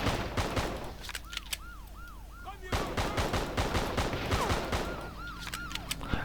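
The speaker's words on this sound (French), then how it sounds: "il essaye de me sniper avec un fusil à pompe à cette distance" Rapid gunfire crackles in the video game Just Cause, dense bursts of sharp shotgun and automatic shots over a wailing police siren that rises and falls, loud and chaotic with brief lulls.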